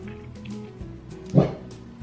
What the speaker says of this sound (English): There's a dog out there, isn't there?